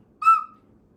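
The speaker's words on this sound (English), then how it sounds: "pottery whistle," A small Mexican folk art pottery whistle gives one short, clear, fairly loud toot with a steady pitch and a breathy edge, fading quickly in an otherwise quiet room.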